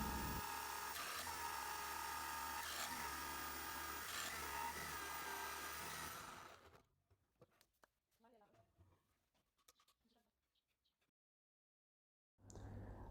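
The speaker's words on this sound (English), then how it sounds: "After the holes has been drilled" A power drill whines loudly and continuously as it bores holes into a wooden floating shelf, then cuts off abruptly into near-silence with faint handling noises before a short burst of drilling resumes at the end.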